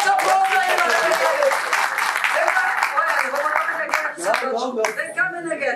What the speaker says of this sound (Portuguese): Lá mais aplausos, mais aplausos aí, Maria.